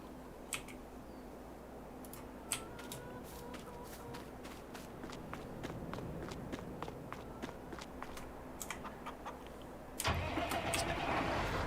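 Tractor engine cranking and starting in the farming video game Farming Simulator 22, a steady low mechanical hum with scattered sharp clicks, then a louder, rougher engine surge near the end.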